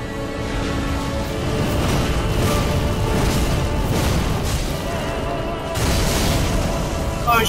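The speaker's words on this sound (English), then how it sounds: "Explosion, I should have realized." An explosion in the video game Dark Souls 3 booms through a dense, rumbling mix of game sound, with a sharp new burst near the end and faint voices underneath.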